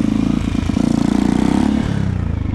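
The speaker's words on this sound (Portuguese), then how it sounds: "Ó, aí a moto vai embora agora, ó. Ó, muito mais veloz." Motorcycle engine revving and running hard on a farm, a loud, close, rapidly pulsing exhaust note that holds steady and shifts slightly in pitch, with no talking.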